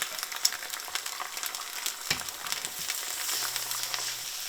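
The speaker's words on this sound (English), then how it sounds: "I'm going to cook some ham." Ham fries in a pan with a crackly, popping sizzle that holds steady for several seconds, sounding fairly close, with no talk over it.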